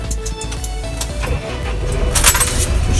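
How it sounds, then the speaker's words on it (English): Tractor engine cranking and starting with a key turn inside a warm farm cab: a close, loud low rumble with rattling keys that settles into a steady running throb, with no talk. "Foot on clutch, turn the key."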